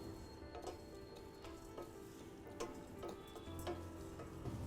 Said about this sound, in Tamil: கொஞ்சம் எண்ணெயில் பொரிங்க.